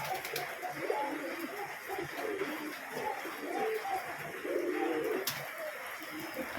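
Pet pigeons kept indoors on a rainy day coo again and again in soft, overlapping low bursts. Several birds are close by over a steady background hiss, with no talking.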